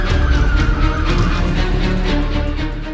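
A car in a police pursuit, ramming other cars, churns along with a loud rough engine and rhythmic grinding tire scrubbing, close and continuous.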